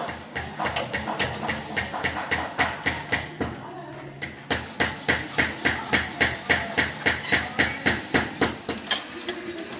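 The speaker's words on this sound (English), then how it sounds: "just use a hacksaw to finish cutting it" A hacksaw cuts through wood for treasure chest handles in steady back-and-forth rasping strokes, loud and close, with a brief pause midway before the rhythmic sawing resumes.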